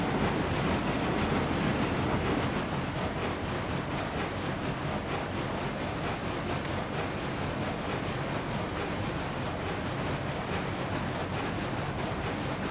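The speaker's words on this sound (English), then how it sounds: "All these engines sound so cool together." Six steam locomotives hauling twenty oil tankers up a 4% grade in Railroads Online blend into a continuous, dense rumbling roar with a broad hiss, steady and fairly loud throughout, no talking.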